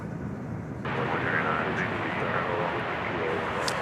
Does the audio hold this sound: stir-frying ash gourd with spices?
no